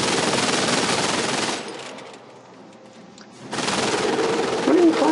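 Machine gun fire from Company of Heroes rattles in loud sustained bursts, breaking off into a quiet gap before resuming just as dense.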